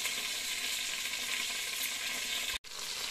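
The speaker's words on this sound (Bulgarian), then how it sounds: "при изключена програма то продължава още да се пърже, защото е нагорещено и няма течност" Sausage sizzles and spits in a hot, dry Instant Pot Pro multicooker pot, a steady dense crackling fry that carries on evenly, broken by one brief dropout near the end.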